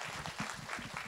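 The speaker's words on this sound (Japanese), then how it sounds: "私がいかがですかって聞いただけで大きな拍手をいただけまして" A brief burst of soft, continuous audience clapping at an opening-day film premiere stage greeting for a Japanese movie, heard faintly from a distance with no voices.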